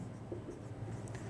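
A pen or marker writes on a surface during a class 10 maths lesson, giving faint, soft scratching strokes over a steady low background hum.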